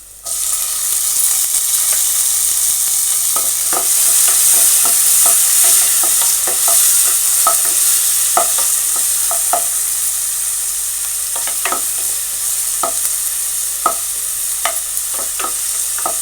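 Tomatoes frying in a pan under a constant bright sizzle, broken by repeated scraping knocks of a spoon stirring at an irregular rhythm, close and fairly loud, with no speech.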